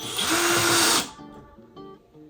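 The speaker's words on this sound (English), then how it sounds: "I decided to go ahead and put the screws in" A power drill drives screws into furniture during a budget bedroom makeover, whirring loudly for about a second before the motor winds down, followed by faint tonal ringing.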